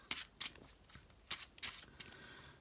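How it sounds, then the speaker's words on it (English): Several quick riffles of a card deck being shuffled, crisp papery bursts close by in a quiet room. "So I'll just quickly shuffle that deck."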